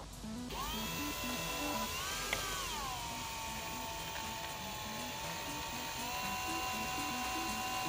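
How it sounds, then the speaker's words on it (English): A steady high-pitched power drill whine runs continuously while drilling into a Veteran Sherman electric unicycle, dipping briefly in pitch partway through, with a low rhythmic clatter underneath. "Okay, it's drilling time."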